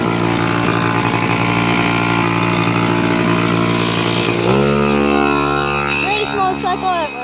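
A mini motorcycle engine runs loud and close with a steady buzzing drone that shifts pitch midway, while a voice speaks over it toward the end.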